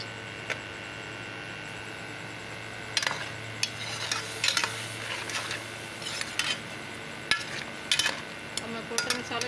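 Tomato paste goes into an aloo chicken curry in a pot, a soft sizzle beneath scattered clinks and scrapes of a spoon stirring, fairly quiet and close.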